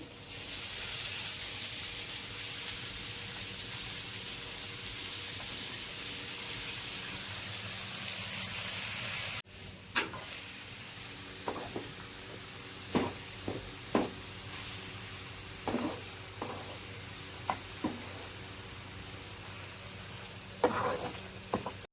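Cabbage going into a hot pan with crab and green chilli, with a loud continuous sizzle that drops sharply partway through, then frying crackles and intermittent stirring clatter, close with no talk.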